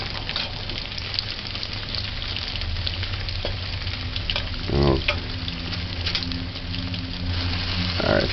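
Fish fries in a small amount of oil on a stove set to high heat for fish sandwiches, giving a steady dense sizzle throughout with a low hum beneath and a brief louder crackle burst midway.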